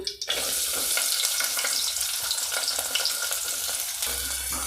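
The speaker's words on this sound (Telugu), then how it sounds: "ఫస్ట్ ఆయిల్ హీట్ ఎక్కిన తర్వాత ఆనియన్" Onions sizzling in hot oil for a chutney, a steady bright crackle and hiss close up that runs evenly throughout with a slight stir near the end.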